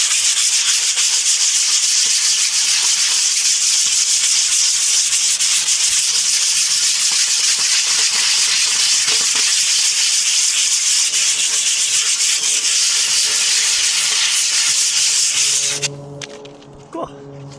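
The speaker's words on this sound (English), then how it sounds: "So I usually just sand it down like crazy." Loud, continuous sanding of a skateboard deck, a steady broadband rasp that runs unbroken for about sixteen seconds before stopping abruptly, leaving a few faint clicks and handling sounds.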